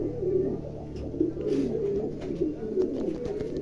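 Fancy pigeons at a pigeon farm coo in soft, rolling, repeated low calls, close by, with overlapping birds and light background rustle.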